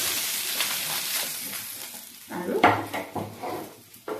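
Fish frying in hot oil in a home kitchen for a bamboo shoot fish curry, a steady sizzle that surges with clatter as the pieces are turned, with a few quiet spoken words.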